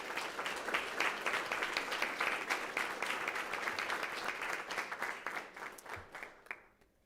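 Audience clapping at a school district board meeting honoring a sports team and its coach, a sustained wash of many hands applauding that gradually thins and fades out at the end.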